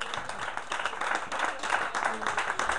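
A concert audience on the port embankment claps steadily to welcome a performer, a dense, even patter of many hands running throughout at a moderate distance.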